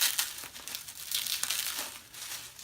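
Tissue paper crinkles and rustles steadily and close up as it is pulled away from a wrapped Chanel lambskin flap bag, with brief louder crumpling bursts throughout.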